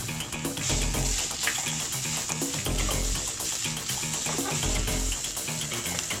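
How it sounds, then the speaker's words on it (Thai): Minced pork stir-fries in a pan with a steady, dense sizzle and scraping stir strokes, close and continuous, with no talking. "ดี๋ยวก็จะผัดคั่วนะครับ คั่วไปให้แห้งเลย"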